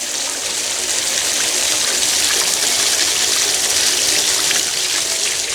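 Water pours steadily onto the soil around a newly planted first-year fruit tree, a continuous close gushing splash with no pause, loud and unbroken throughout.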